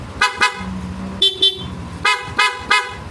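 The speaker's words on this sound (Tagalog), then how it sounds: "Yung busina ginamit natin yung stock horn" A Yamaha Lexi 155 motorcycle's stock horn honks in short beeps, two quick ones, a pause, then two more and a final three in a row, loud and close.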